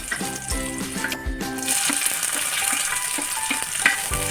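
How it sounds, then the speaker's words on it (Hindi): Vegetables for a stovetop pizza sautéing in a pan, a continuous close sizzle with occasional stirring scrapes, under faint background music and no talk. "इस तरह हमें वेजिटेबल को सॉटे कर लेना है।"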